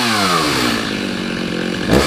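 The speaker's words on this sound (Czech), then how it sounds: "Pepiku, máme nějakou pilečku? A pojďme na ňu" A saw drones continuously and loudly in a close, harsh buzz at a Czech end-of-season gathering, ending in a short clatter.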